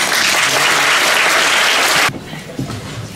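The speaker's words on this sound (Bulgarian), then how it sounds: "нека на сцената приветстваме заместник директора на гимназията. С бурни аплодисменти." Loud, dense applause from a school concert audience at a graduation send-off greets a deputy headteacher, then stops abruptly after two seconds, leaving quiet room sound with a faint bump.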